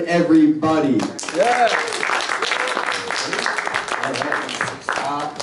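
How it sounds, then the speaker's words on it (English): Audience applause at a crypto convention greets a guest speaker being introduced on stage, a broad sustained crowd clapping that swells and fills the room while the host's voice speaks over it. "Give a round of applause for Ben Perrin"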